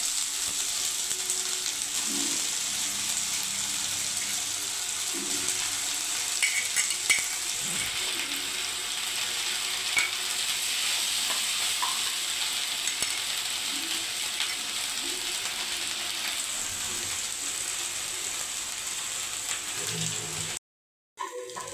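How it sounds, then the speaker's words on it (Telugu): Gooseberries frying in a pan for a roti pachadi chutney, stirred with a utensil that rattles and scrapes over a steady, moderate sizzle, then a brief cut of silence near the end. "ఇదిగోండి ఇలా బాగా వేయించుకోవాలి పచ్చివాసన పోయేంత వరకు వేయించుకోవాలండి ఇలా"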